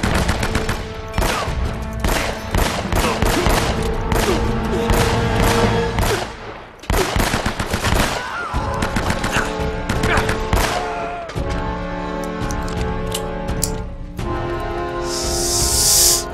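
Dense gunfire in Uncharted: Drake's Fortune, with rapid overlapping shots and bursts forming a near-continuous loud barrage, broken by short pauses and game effects.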